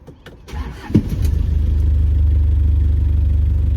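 A car engine during a driving lesson catches after a few clicks and settles into a steady, loud, low idling drone with slight revving, close by, without talk.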